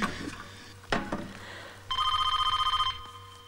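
A telephone bell rings in a steady rapid trill for about a second after some faint room sounds and brief voices, loud and close, in a domestic scene from a Hindi film.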